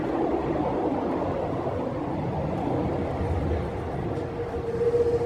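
A Paris metro train running, a steady low rumble with rolling wheel and carriage noise throughout, a faint squeal rising near the end, no voices.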